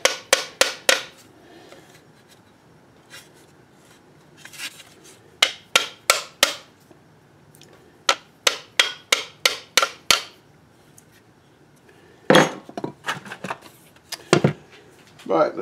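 Sharp hammer blows on a part of a 2001 Chevrolet Tahoe ring out in quick bursts of several strikes, separated by quiet pauses, close and loud.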